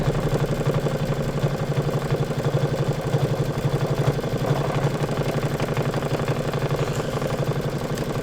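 Embroidery machine stitching out a design on a Kimberbell tote blank, giving a steady, rapid mechanical hum and chatter that holds an even rhythm throughout, close and moderately loud.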